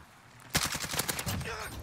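Rapid automatic gunfire in Call of Duty: Modern Warfare, a loud close burst of roughly a dozen shots in quick succession following a quiet lead-in, with a brief tail of echo afterward.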